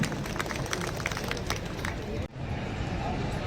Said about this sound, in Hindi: एक बार जोरदार तालियां हमारे परम सत्य भैया जोशी जी के लिए।